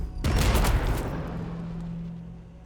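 Gunfire from units in the Warhammer Battlesector strategy game: a sudden loud volley of several rapid shots that booms and then rumbles away into a fading tail.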